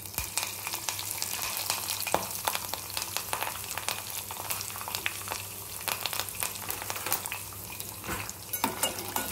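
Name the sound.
urad dal and curry leaves frying in a pan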